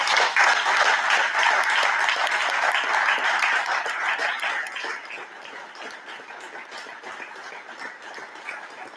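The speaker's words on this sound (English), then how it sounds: "Can we just give a little bit of applause?" A crowd at a graduation ceremony claps warmly in sustained applause, dense and loud at first, then thinning and softening over the second half as the clapping tapers off.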